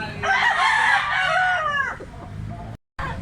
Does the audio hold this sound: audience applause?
no